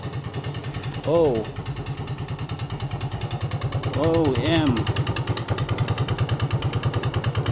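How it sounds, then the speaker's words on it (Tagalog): A Yamaha Nouvo Z motorcycle engine idles close by with a rapid, steady knocking clatter from the head or block, while someone talks briefly over it. "nadidinig na knocking noise sa bandang head or sa block ng kanyang motor"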